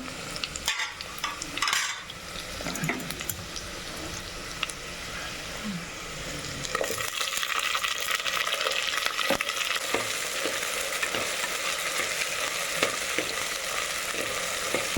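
Eggplant drops into a pan with curry leaves for a Pongal-style kuzhambu, a close sizzle with stirring scrapes and clinks, a soft thump early on, then the frying grows louder and more continuous.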